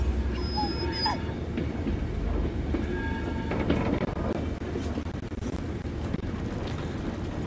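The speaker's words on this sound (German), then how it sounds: "Und wir fahren wieder Eisenbahn." A train in the Blair Witch video game rolls steadily along a railway with a continuous low rumble and faint rhythmic clatter, loud and unbroken for several seconds under light wind-like noise.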